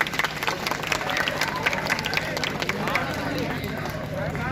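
An audience at a civil defence blackout demonstration in Lucknow claps for a minister. The sustained clapping blends with crowd murmur and voices, fairly loud throughout.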